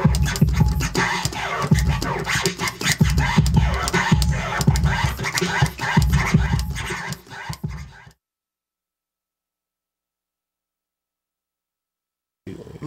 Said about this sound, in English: We're going to do a little scratch. You just bring the track forward, cut it over, bring it back.